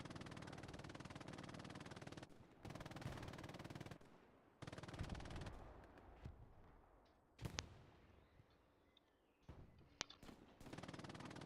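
Bursts of machine gun fire from an MG in the Hell Let Loose competitive match, long sustained volleys broken by short pauses and single sharp cracks, loud and close with distant battle noise between bursts.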